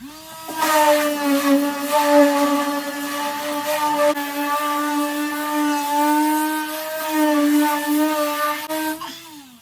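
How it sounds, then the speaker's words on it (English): A power sander works over car bodywork, a loud, steady whining drone with a constant pitch that runs almost without a break for several seconds before cutting off near the end. "sand all this down, prep it, get it ready to go"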